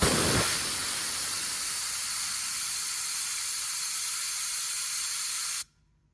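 A spark plug cleaner blasts sand with a loud, steady, close hiss of rushing air and grit that runs for several seconds and then cuts off abruptly.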